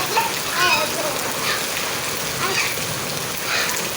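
Heavy rain mixed with hail falling, a steady loud wash of drops with faint scattered harder impacts, and a voice murmuring faintly now and then.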